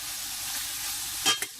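Leftover cooked meat sizzles steadily in a hot pan, a constant broadband frying hiss with a brief louder burst of stirring or spatter near the end, no voices.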